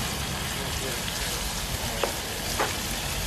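Garlic and chilli prawns frying in a hot pan, a steady, dense sizzle and crackle throughout, with a couple of faint clicks.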